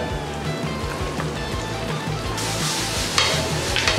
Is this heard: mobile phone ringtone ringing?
no